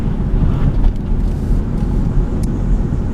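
A 2002 Subaru Outback L.L. Bean Edition with its 3.0-liter H6 engine hums low and steady from inside the car, a constant droning rumble with no talking.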